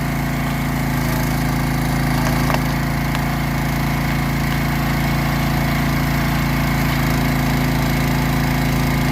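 A wood-cutting machine used for splitting firewood runs with a loud, steady engine drone and hum, constant throughout with no talk.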